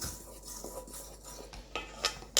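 A spoon stirs dry cake ingredients (gluten-free flour mix for a chorizo and comté loaf) in a bowl, giving soft scraping and light clinks against the sides, with a few sharper taps near the end.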